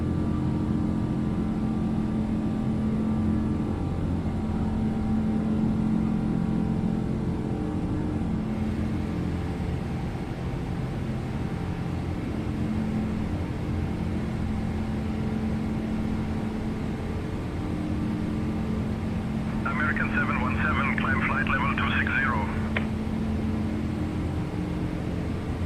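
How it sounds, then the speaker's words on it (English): Steady, loud drone of an American Airlines Boeing 717's engines during climb to cruise altitude, a continuous low rumble and broadband roar filling the cabin, with a brief chime-like chirp partway through. "Engine sound loud too right now."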